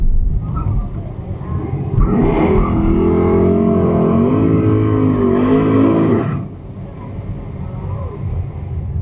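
A loud Mustang drag car engine with a 528 engine roars hard for about four seconds, climbing in pitch as it accelerates, then drops away to a lower rumble.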